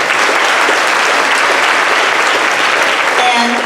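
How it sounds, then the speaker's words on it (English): Steady, dense applause from a concert audience after a band performance in Boynton Beach, filling the whole stretch loudly and evenly with no pauses. "Let's have another round of applause for our guest conductors, Jim St. Clair and Jim Sheldrick."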